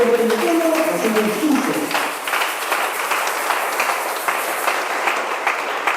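A church congregation applauds and cheers for Jesus, a dense, loud, continuous wash of clapping with a voice speaking at the start.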